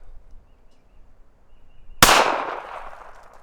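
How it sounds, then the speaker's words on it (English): A single sharp gunshot cracks out loud and close during Norma ammunition velocity testing into a chronograph, followed by a brief fading echo after a quiet lead-in. "Now let's do 5 rounds into the chronograph."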